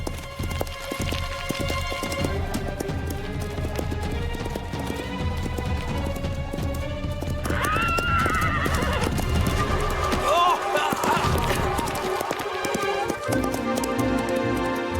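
A cartoon pony gallops with quick, continuous clip-clopping hooves and whinnies over music, loud and close, with a brief swooping effect near the middle.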